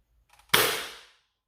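A Dart Zone Pro MK 2.1 foam dart blaster fitted with a muzzle brake fires one sharp, loud shot close by, with a short rattling tail and a few faint clicks just before. No talking.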